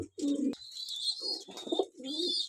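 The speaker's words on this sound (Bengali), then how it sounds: "এখানে আছে এগুলা মুখী কবুতর" Mukhi breed pigeons, a male and female pair, coo in low, throaty, repeated phrases close by, with a steady high-pitched background tone running through most of the clip.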